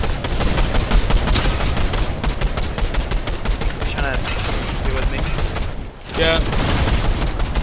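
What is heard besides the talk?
gunfire in a video game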